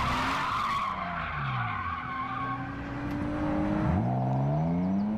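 A drift car at Teesside spins out near the barriers, tyres skidding and squealing in long sliding tones while the engine whines and revs, then swoops upward as the car recovers.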